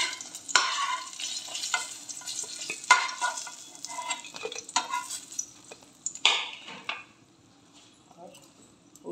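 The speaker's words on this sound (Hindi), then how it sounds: "इस साइड भी हम मीडियम आंच पर 3 से 4 मिनट तक फ्राई करेंगे।" Eggplant slices fry in oil over medium heat in a pan, giving a soft sizzle broken by clinks and scrapes of a utensil turning them, with a few louder knocks against the pan.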